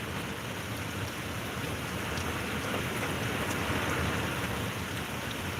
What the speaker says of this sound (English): I can see the sheets of rain coming in like 2 different directions.